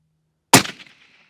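A single rifle shot fired during a scope shooting test with a Leupold CDS custom dial, sharp and loud after silence, followed by a short decaying ring and echo.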